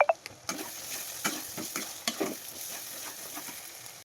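Ground spices, coriander and Kashmiri chilli powder, sizzling in hot oil in a pan while being stirred, with a steady frying hiss and soft scraping strokes of the spoon, close and fairly quiet.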